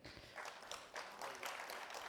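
Round of applause from an audience at an awards ceremony for a trophy presentation, a spread of soft clapping at moderate distance, fairly quiet and steady.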